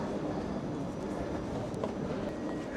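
An airport's driverless automated train passes with a steady, continuous rumble of rolling wheels and motor noise, heard nearby throughout without a break.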